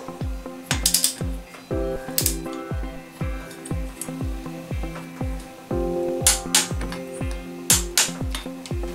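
A ratchet wrench tightens bolts on a Yamaha Serow 225 engine under rebuild: rapid bursts of close, crisp clicking with metallic ringing, repeating in quick rhythmic runs and pausing briefly between strokes, with no voices.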